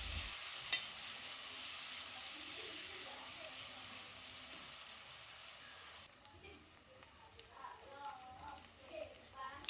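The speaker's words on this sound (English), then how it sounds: "you're now gonna add your onions. Mix it a bit and allow your onions to cook until they're almost golden brown." Pork and onions sizzle and are stirred in a pot, with steady frying that quiets partway through as scraping stir sounds come forward, and a voice speaks over it.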